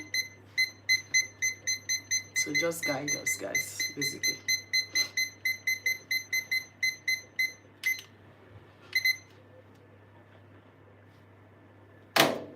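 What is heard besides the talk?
alarm timer beeping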